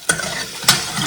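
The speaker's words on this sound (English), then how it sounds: "they're frying down really nicely" Onions fry in a pan for a bean curry, a loud, close, continuous sizzle broken by two sharp stirring scrapes near the start and end, with no voices.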